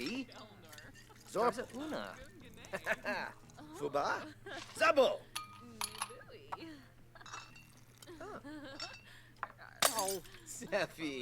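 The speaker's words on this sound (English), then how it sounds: "We're smashing the bottles again." Glass bottles shattering and clinking behind a bar in a video game, several sharp breaking crashes scattered among steady talk and background game noise.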